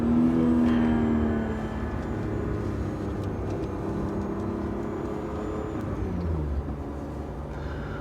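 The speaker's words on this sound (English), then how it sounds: "you can hear the car sounds good" A Techno Violet BMW E36 M3 drives at sunset, heard as a steady engine drone with tire and road rumble and subtle pitch shifts as the revs change, heard from inside the car with no one talking.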